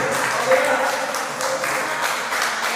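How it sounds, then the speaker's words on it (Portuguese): A church congregation claps in praise, a loud mass of applause rolling on for under three seconds, with voices mixed in beneath the clapping. "Você pode aplaudir essa glória a Deus?"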